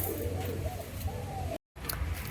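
Pigeons, a pair of male and female birds kept as pets, coo softly in low repeated murmurs against steady background noise, with a brief dropout partway through.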